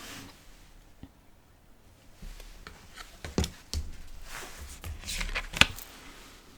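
Tarot cards handled and shuffled up close, faint at first, then a run of soft, irregular papery riffles and slaps that grow busier and louder toward the end.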